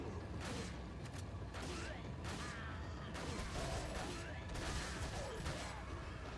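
Gunfire in the video game Resident Evil 4, a dense, continuous barrage of shots and mechanical clatter running throughout under a busy game soundscape.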